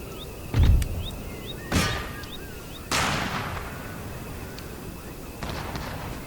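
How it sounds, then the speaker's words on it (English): Artillery fire in an Empire Total War battle: several loud cannon booms spaced a second or so apart, each followed by a rumbling decay, over a steady battlefield din with faint bugle-like calls. "it's turned into a bit of an artillery practice"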